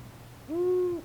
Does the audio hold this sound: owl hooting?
yes